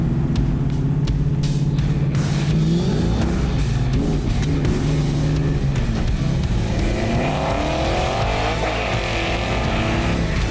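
A loud big-block V8 in a 1968 Camaro roars and revs hard up through the gears, the pitch climbing as the car accelerates close by.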